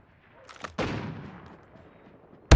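Gunfire in the mobile shooter game COD Mobile: a faint shot or two, then a loud burst that rings out and slowly decays, followed by another sharp crack right at the end.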